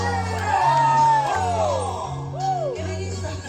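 Audience at a restaurant evening show whooping and shouting over a cover of a Hokkien song, excited cries rising and falling over steady music and a pulsing bass beat.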